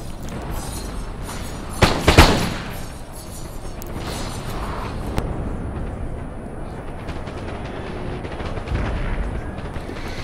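Cannon artillery fire in the Napoleon: Total War battle at the Pyramids: a couple of loud, booming blasts close together, followed by a steady rumble of distant gunfire and battle noise.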